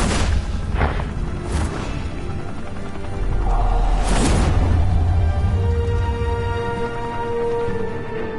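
Gunfire in Batman: The Telltale Series, a few sharp shots followed by a heavier booming burst that rumbles and lingers, loud and close amid game ambience.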